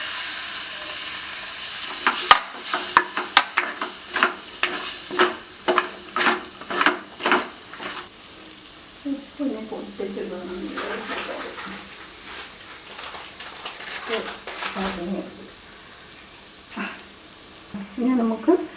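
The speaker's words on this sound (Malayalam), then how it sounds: "നമുക്കതിലോട്ട് അരിഞ്ഞ് വെച്ചിരിക്കുന്ന തക്കാളി ചേർത്ത് കൊടുക്കാം." Chopped tomatoes hit a hot chicken curry pan and fry with a steady close sizzle, broken by a run of sharp rhythmic scraping and clanking as a spoon stirs against the pan, then softer stirring and sizzle.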